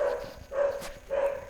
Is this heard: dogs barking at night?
yes